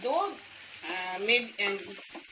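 Onions hit hot oil for a Konkani-style onion fry and set off a steady, close frying sizzle with a bright hiss. A voice briefly sounds over it.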